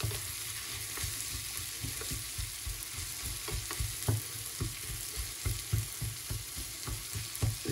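Chopped shallots cook gently in melted butter over low heat, a steady soft sizzle broken by frequent scraping clicks as a spoon stirs the pan constantly, close and alone with no talk.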